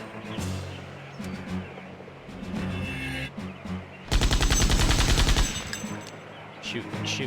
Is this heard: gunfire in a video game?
yes